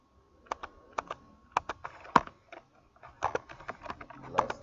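Keys clack on a computer keyboard during coding work, a close, quiet run of irregular taps and clicks with short pauses between bursts and no talking.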